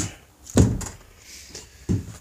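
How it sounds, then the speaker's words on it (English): A door on a 12x16 backyard shed swings open, with a couple of dull wooden thunks and a soft rattle, close by and with no speech. "So here's the door."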